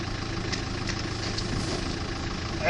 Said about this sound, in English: the safari guide turns the engine off and on to startle the animal